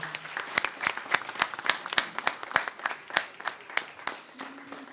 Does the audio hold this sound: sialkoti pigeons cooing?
no